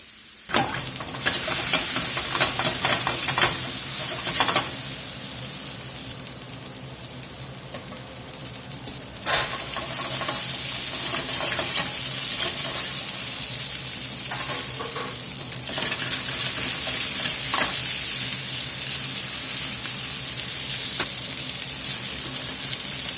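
Meatballs for a meatball sub sauté and brown in a pan with a loud, continuous sizzle, broken by occasional scraping and turning clatters from a utensil; no voices.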